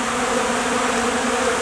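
Honeybees in February buzzing steadily around a hive entrance as they feed on a protein patty, a dense continuous insect drone at close range with no voices.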